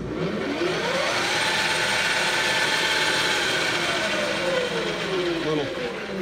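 A rotary three-phase converter powering a shop machine runs continuously, giving a loud, steady mechanical drone with whining tones that slowly rise and fall throughout.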